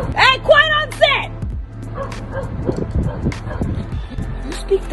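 A dog on a rooftop gives two sharp, close barks, then yips and whimpers more softly, with people talking over the later part.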